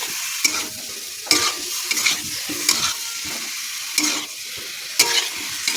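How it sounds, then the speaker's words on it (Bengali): Cauliflower and potato frying in a pan on a gas stove, stirred with a spatula in regular scraping strokes about once a second over a steady sizzle. "একটু নেড়ে নিয়ে গ্যাসের আঁচটা একটু বাড়িয়ে দেবো।"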